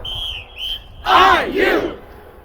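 A marching band conductor's attention whistle gives two short, shrill blasts during a band rehearsal, followed by a loud group shout from the assembled band members.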